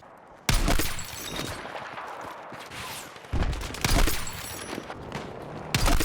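Gunfire and sniper shots in the Battlefield 6 beta video game: loud, close bursts of rapid shooting and sharp single cracks, coming in about four distinct volleys over a continuous rumble of battle.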